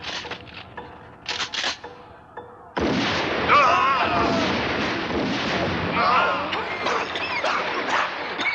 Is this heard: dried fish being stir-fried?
no